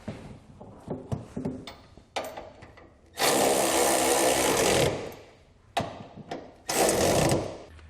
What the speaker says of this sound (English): When tightening your flange nuts, use an 18mm socket.